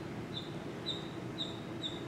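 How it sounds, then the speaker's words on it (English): A bird peeping outside, four short high chirps at a steady, evenly spaced pace, faint and distant over a low background hum. "Listen to that bird peeping outside."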